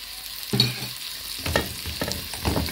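Onions, carrots and spices stirred together in a pot while cooking, with a loud frying sizzle broken by several scraping stirs of a spoon, close and continuous over a few seconds, no voices.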